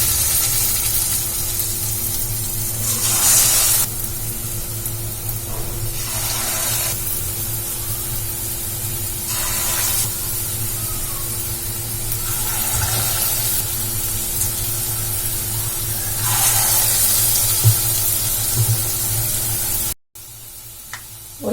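Spoonfuls of egg batter for a simple sweet drop into hot oil, each one setting off a fresh loud surge of sizzling over a continuous bubbling hiss, several bursts in a row, close by.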